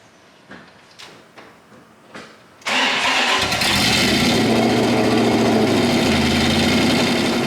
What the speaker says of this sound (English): Would you like to hear a startup? All right, first with the exhaust closed.